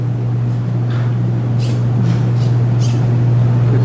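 A small motor spins the wheels of a coding robot car, giving a steady, close, low hum with a few faint higher clicks and rattles on top.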